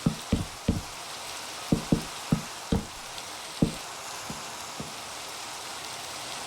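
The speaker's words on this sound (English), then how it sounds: "Annoyed that it's raining though." Rain falling in the game Minecraft, a soft steady hiss broken by a series of sharp, evenly spaced patter-like ticks, moderately loud with no talking.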